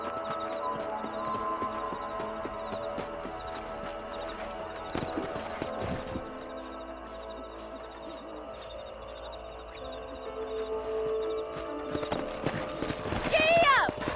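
Horses clip-clop across a ranch in the video game Red Dead Redemption, steady hoofbeats under a game voice and background music, with a whinny near the end.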